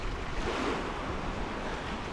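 Calm, warm sea lapping gently at the shore of a resort harbour with yachts moored nearby, a soft steady wash with light wind noise and no voices.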